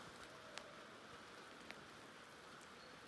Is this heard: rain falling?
yes